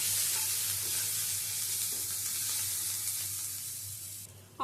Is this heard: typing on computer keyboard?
no